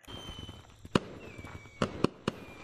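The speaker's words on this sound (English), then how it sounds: "Whoa, there's fireworks!" Fireworks in the video game Gorilla Tag: a handful of sharp, crackling bangs spaced irregularly over a quiet background, with a faint whistling tone drifting between them.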